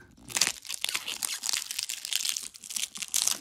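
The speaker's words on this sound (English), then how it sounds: "I'm slowly cutting the plastic open and I'm going to go all the way down and I'm going to actually cut it open." A blade slices through the plastic wrapping on a mattress, giving bright, crinkling crunches and tearing rasps in irregular bursts, fairly quiet and close.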